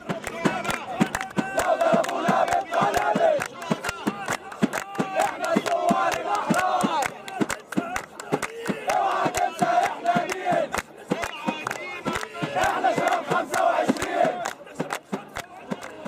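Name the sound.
protest crowd chanting at Tahrir sit-in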